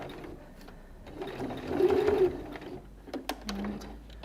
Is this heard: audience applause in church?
no